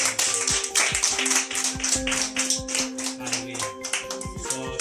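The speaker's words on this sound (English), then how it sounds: "Clap your hands for Jesus" A church congregation clapping hands together, a steady stream of sharp, fairly close claps in loose rhythm over a sustained musical backing.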